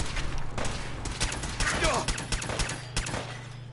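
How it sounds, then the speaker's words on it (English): Gunfire rattles through a Fallout 4 firefight in bursts and scattered shots over a constant low hum, with a voice faintly heard in the mix. "you can see that guy's getting shot at and killed"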